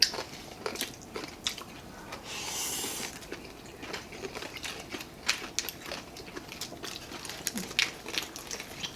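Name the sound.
biting and chewing crispy fried pork head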